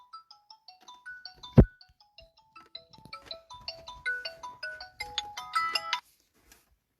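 A phone ringtone playing a bright electronic melody of short beeping tones, rising in density and pitch before stopping abruptly, with a sharp knock early on and faint background noise.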